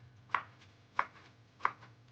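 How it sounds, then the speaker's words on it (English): Potatoes are cut into fry-shaped sticks with a knife on a chopping board, giving three sharp, evenly spaced chops close up against a quiet room. "just go ahead and now chop this into fry shape on your chopping board"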